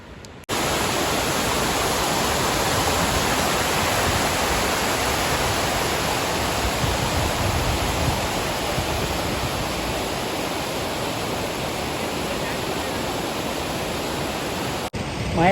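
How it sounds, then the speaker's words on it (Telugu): Lodda waterfalls in Manyam District roar with a steady, loud rush of falling water that fills the whole span, broadband and unbroken from start to finish, with no voices over it. "మేమైతే ఇప్పుడు వాటర్ ఫాల్స్ మీద ఉన్నాం"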